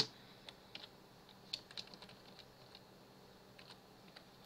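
Soft keystrokes on a computer keyboard tap out a short password in scattered clusters of quiet clicks, with pauses between bursts, close and faint over a low room hum.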